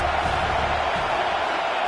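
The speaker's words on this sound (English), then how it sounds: "Big 3rd down as the crowd gets behind this defense" Football stadium crowd roaring behind the defense on a big third down, a broad steady wall of cheering that fills the moment, with a commentator's voice faintly mixed in.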